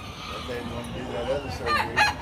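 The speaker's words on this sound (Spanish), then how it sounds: "Ahí está el gallo." A rooster crows at middle distance over a low flea-market murmur in Canton, Texas, its strained call rising near the end among other faint clucks.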